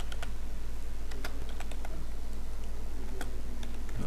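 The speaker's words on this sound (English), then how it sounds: "you can type this command" Someone types a command on a computer keyboard for a CentOS server: quick, irregular key clicks under a constant low hum, close and fairly loud, with no talking.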